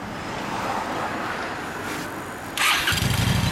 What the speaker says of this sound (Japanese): エンジンを聞かせてもらえる？